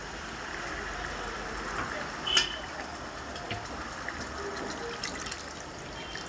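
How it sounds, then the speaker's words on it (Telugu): Water is poured into a cooking pot for a Godavari-style fish curry, a steady soft splashing and trickling throughout with a brief clatter partway through. "నీళ్ళు పోసుకుందాం."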